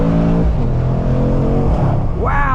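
A 2021 Mercedes-AMG C63S coupe's V8 accelerates hard in second gear, a loud, deep close-up roar that climbs in pitch, with a brief rising whine near the end.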